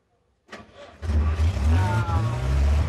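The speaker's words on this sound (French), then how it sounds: "Attendez, c'est le démarreur." An HY van's starter cranks the engine briefly, then the engine catches and runs at a steady, loud idle close by.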